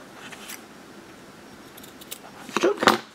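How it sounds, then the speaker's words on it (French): Small sewing scissors snip thread while sewing a cheque-book holder: two quick, sharp cuts near the end, after quiet fabric handling. "Je prends mes petits ciseaux et en fait je coupe les ongles."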